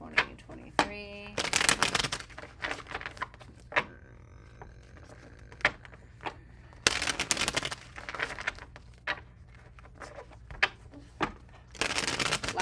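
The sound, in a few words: shuffling tarot cards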